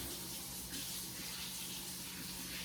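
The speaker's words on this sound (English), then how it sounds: "Let me rinse this off." Steady faucet water runs continuously over a raw onion being rinsed in a kitchen sink, a constant close hissing stream with no pauses.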